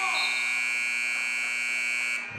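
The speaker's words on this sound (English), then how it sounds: "it looks like it may be the buzzer" A loud, steady electronic buzzer sounds the end of a period at a high school wrestling match, holding one harsh tone for about two seconds before it cuts off abruptly.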